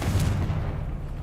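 A Confringo fire-blast spell goes off in Hogwarts Legacy, a loud low booming burst up close that rumbles and slowly fades over about a second.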